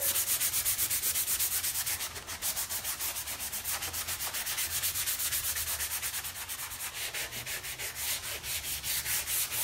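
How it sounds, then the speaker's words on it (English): Fine 220-grit sandpaper rubs lightly over a chalk-painted fabric surface in steady, rhythmic back-and-forth strokes, close and soft, with no talking. "I'm just going to lightly sand over my surface."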